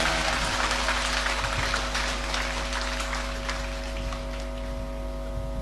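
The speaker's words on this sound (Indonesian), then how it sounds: "tepuk tangan untuk guru-guru itu" A congregation applauds the teachers during a Catholic sermon, a steady wash of clapping from a large crowd held at an even level throughout, with a constant low hum beneath it.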